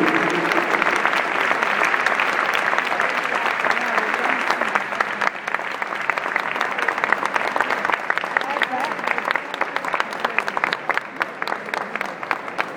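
Crowd in an equestrian pavilion applauds a rider at a dressage grand prix in Rome, a loud sustained roar of clapping that swells and stays dense for over ten seconds while an announcer talks over it.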